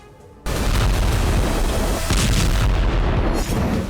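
Russian missile strikes in Ukraine going off suddenly after a quiet moment, heavy continuous booming and crackling blasts with loud rolling rumble throughout.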